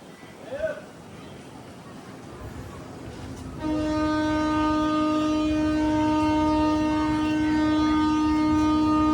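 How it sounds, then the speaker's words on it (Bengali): A train horn blares in a long, loud, sustained tone after a few seconds of rumbling background noise, with a faint voice early on. "একটা ট্রেন আসছে, তোমার দেখাচ্ছি।"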